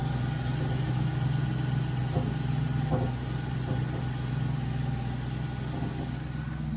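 A 1973 Range Rover engine idles steadily just after its first start, giving a low, even, continuous rumble with faint ticking, heard close and without talk.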